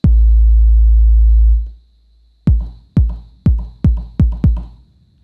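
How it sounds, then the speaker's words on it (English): Kick drum preset from an Elektron Model:Cycles groovebox: one long, deep booming hit that rings out, then six short, punchy kicks in a quickening pattern, loud and alone with no talking. "So track 1 has the kick,"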